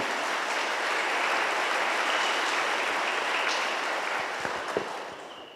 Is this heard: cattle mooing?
no